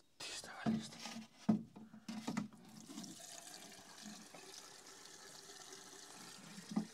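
Water poured and left running during machine hose repair work in a workshop, starting with a few splashes and knocks before settling into a steady faint rushing flow.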